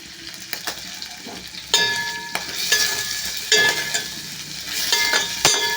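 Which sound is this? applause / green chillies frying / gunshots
green chillies frying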